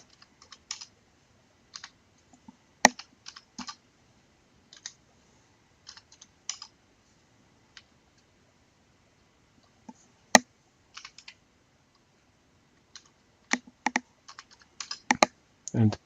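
Position values are typed on a computer keyboard as short bursts of quiet key clicks, close and sparse, with brief pauses between groups and a faster run near the end.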